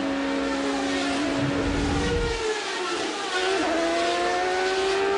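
A Champ Car race car engine roars on board during a race at Brands Hatch, a steady loud high-pitched drone with a brief dip in revs before climbing again, with other cars' engines blending in.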